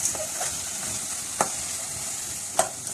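A coconut barfi mixture is stirred in a pan over low heat, giving a soft, steady frying hiss broken by a few distinct scrapes of the spoon, close by, with no talking.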